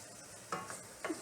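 Brief bursts of sizzling hiss as boiling water is poured slowly into a hot pan while cooking quinoa, two or three short surges over a quiet steady frying background.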